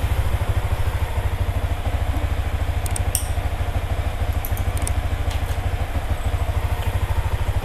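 A Yamaha Vixion R motorcycle engine idles nearby with a steady, rapid chugging pulse, accompanied by a few faint metallic clicks.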